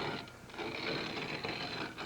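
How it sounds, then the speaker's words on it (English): A store-bought hand-cranked corn grinder works through dried corn, giving a faint, continuous gritty mechanical rasp and clatter with uneven pulses as the handle turns. "here's a hand corn grinder, the kind you can get in a lot of stores nowadays"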